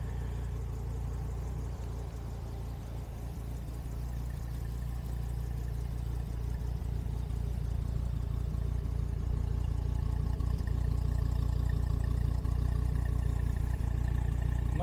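A low-riding car's engine and exhaust idle steadily, a deep, constant low rumble and hum that swells slightly louder toward the end, with no voices.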